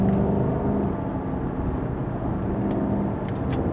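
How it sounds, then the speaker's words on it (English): A Lexus LS cruises on a highway with cruise control set, producing a steady low road and engine rumble with a constant hum, heard from inside the cabin, with no speech. "So I'm cruising along here on the highway with cruise control on"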